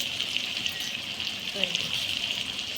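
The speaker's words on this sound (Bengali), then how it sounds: "সেই জন্য মশলাটাকে ভালো করে কষিয়ে নিই" A turmeric spice paste for prawn curry sizzles and fries steadily in a pan, a soft continuous hiss with small crackles, close and fairly quiet.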